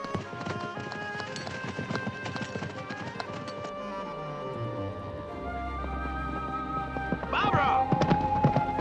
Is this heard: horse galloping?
yes